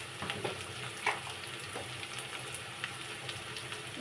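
Chilli, coriander and cumin frying in hot oil in a pan for a fish and taro curry, a steady close sizzle with occasional stirring clicks and scrapes throughout.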